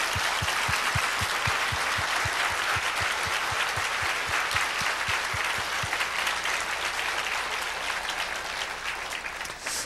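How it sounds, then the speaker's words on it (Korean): A church congregation at a short-term mission sending service claps together, first in a strong regular rhythmic beat, then loosening into dense, even applause that carries on steadily throughout without speech. "우리 지난날 동안 함께 역사하신 우리 하나님께 다시 한번 영광과 감사의 박수 올려드립시다."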